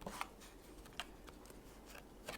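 Oracle cards handled softly and close up, with a few faint crisp flicks and slides of card stock spread unevenly through a quiet stretch, no talking.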